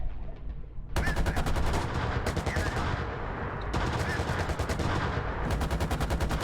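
Loud machine-gun fire in the tank game GHPC, set around the Fulda Gap, comes as long sustained bursts of rapid, evenly spaced shots, broken by two brief pauses and sounding close.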